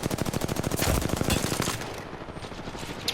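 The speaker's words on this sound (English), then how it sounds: "I think I'm shooting my gun" Rapid automatic gunfire from the player's weapon in the battle royale game Apex Legends, a dense burst of evenly spaced shots that rattles loudly for about two seconds before trailing off into quieter in-game ambience.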